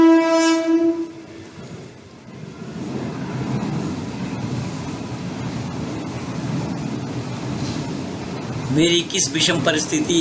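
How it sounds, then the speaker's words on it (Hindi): A train rumbles steadily past with a horn sounding at the start and clattering wheels throughout, loud and fairly near, while someone speaks over the noise. "वो देखिए, ट्रेन जा रही है, ट्रेन की दनादन आवाज आप लोग भी सुन रहे हैं।"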